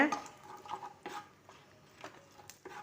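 A spoon stirring chicken masala powder into hot oil in a pan for a quail egg masala, with soft intermittent scraping strokes close by and a faint voice in the background.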